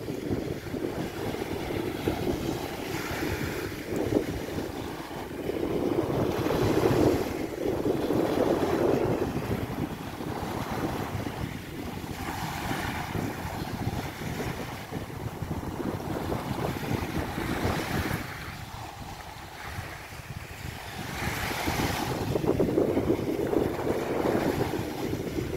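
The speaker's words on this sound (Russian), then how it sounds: "Море бушует." Rough sea waves surge and crash in repeated swells, mixed with gusty wind noise on the microphone, steady and fairly distant.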